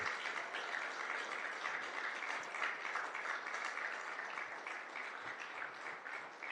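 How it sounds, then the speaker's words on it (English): A steady, dense round of audience applause for a community chorus at a veterans recognition ceremony, even and sustained throughout with no voices over it. "Let's give the community chorus another round of applause."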